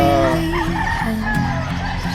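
Chickens cluck and a rooster crows amid a busy, noisy pet market in Bocaue, Philippines, with a steady mix of animal calls and background chatter throughout.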